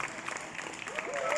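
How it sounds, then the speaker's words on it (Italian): Audience applause at an Italian live music show, a soft wash of clapping that swells slightly toward the end, with a faint melodic tone and murmured voices mixed in. "un applauso a tutto il popolo e al sindaco e a tutta l'amministrazione."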